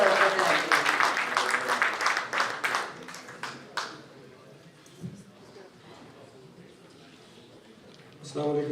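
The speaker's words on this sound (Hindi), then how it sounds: "इस्तकबाल कीजिए भरपूर तालियों में" Audience applause at an Urdu mushaira poetry gathering, with loud clapping for the first few seconds that fades to scattered claps and a quiet room, then a voice comes in at the end.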